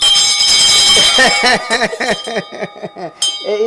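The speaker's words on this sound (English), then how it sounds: "You'll ring this bell, and yes, just ring it for us." A hand bell rings with a bright metallic ring that carries over the first second and a half, then fades as voices begin talking.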